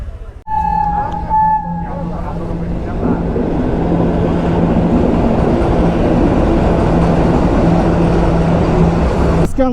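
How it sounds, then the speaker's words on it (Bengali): A train rolls past a rider stopped on the road in Jharkhand, a loud, sustained roar and rumble filling the scene after a brief horn-like tone at the start. "ট্রেন আসবে, ট্রেন।"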